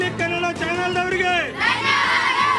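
Schoolchildren cheer and chant together in a loud, close burst of high, excited voices, a single sustained shout that rises and swells to the end.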